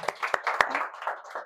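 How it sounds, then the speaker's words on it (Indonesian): A classroom group claps together in a short burst of applause, several sharp hand claps standing out within a dense, ragged patter that tails off quickly. "Tepuk tangan dulu untuk semua teman-temannya."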